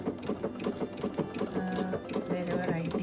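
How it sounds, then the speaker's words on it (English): A Brother Luminaire XP2 embroidery sewing machine stitching, its needle hammering in a fast, steady rhythm with a whirring motor hum, close and continuous; a voice may murmur faintly underneath. "Now let me go ahead and start stitching."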